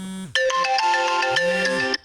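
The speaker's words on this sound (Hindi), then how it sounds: "फोन आ गया बीच में" Mobile phone ringtone going off during a geography lecture, a loud bright electronic melody of stepping tones that plays for over a second and a half, then cuts off abruptly.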